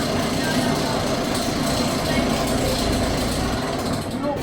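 Continuous loud rumbling and rattling from a back-row ride on the Abismo roller coaster at Parque de Atracciones de Madrid, a dense steady roar throughout with no clear breaks.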